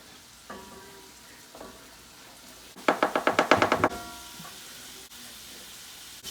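Ground meat and peppers frying in a pan for homemade chili while being stirred, a soft steady sizzle with a burst of rapid scraping, clattering stir strokes in the middle, close and fairly quiet.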